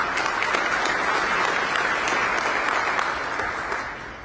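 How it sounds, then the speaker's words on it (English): Audience applause filling a hall at a State of the County address in Bexar County, loud and steady clapping for over four seconds before tapering off at the end, with no voices over it. "Let's give them a round of applause."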